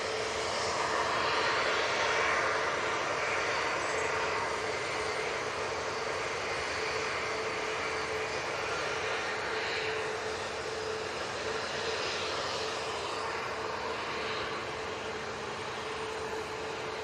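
Aircraft at Manchester Airport send out a continuous, even engine roar that fills the whole stretch at steady loudness, with no voices over it.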